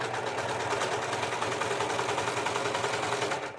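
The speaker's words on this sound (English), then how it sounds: "So I'm going to serge this all the way around." A serger sewing machine runs continuously, stitching around the edge of fabric in a fast, even mechanical chatter for a few seconds before slowing slightly at the end.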